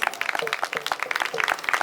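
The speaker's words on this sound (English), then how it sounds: "A big round of applause, please." Audience applause for an evening's guest, a short stretch of irregular, fairly close hand claps from a modest crowd mixed with some vocal sounds.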